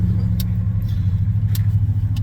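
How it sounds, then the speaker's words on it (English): Squarebody truck engine with an exhaust leak running steadily, a low throbbing rumble with faint puffing ticks, fairly close and continuous with no talk. "I think it's just an exhaust leak"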